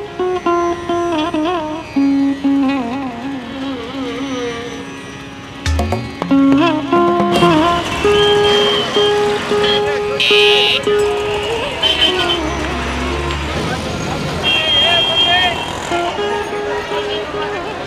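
Busy Bangalore street traffic with repeated car and bus horns tooting and honking over a constant rumble of engines, loud and close, with voices talking over the din.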